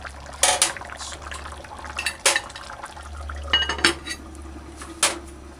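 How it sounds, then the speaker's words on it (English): A spoon stirs a pot of curried pig's trotters and butter beans gently, giving a few distinct metallic clinks and scrapes against the pot over a soft bubbling background, close by and unhurried. "Let's stir it gentle."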